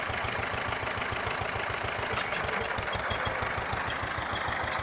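Tractor doing inter-row cultivation of a squash field runs at idle, a steady close rhythmic diesel chugging with fast even pulses and a broad mechanical hum, alone without voices.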